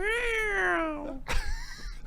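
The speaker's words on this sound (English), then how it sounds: "the kids had that screech. They're like little cats." A child lets out a long, rising and falling screech that sounds much like a cat's meow, loud and close, then a short second cry follows.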